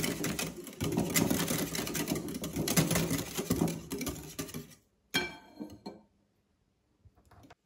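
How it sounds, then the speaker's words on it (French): Cake batter for a soft banana-almond cake, with oil and milk just added, is whisked quickly by hand in a bowl. The close, fast rhythmic clatter runs for about five seconds, stops, then gives one short final burst. "À ce moment-là, je vais fouetter à la main rapidement."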